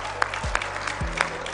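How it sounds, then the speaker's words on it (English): A round of applause from the audience at a Rotary district conference in Naivasha. The short burst of clapping is steady and moderately loud, with other sounds from the hall mixed in. "Please stand up for recognition and give them a befitting round of applause."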